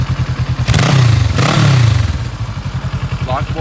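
A 2008 Kawasaki KLE650 Versys motorcycle engine with a LeoVince slip-on exhaust idles with a pulsing throb, then revs up sharply twice and settles back to a steady loping idle, close by.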